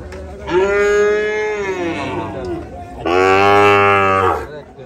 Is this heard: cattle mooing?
yes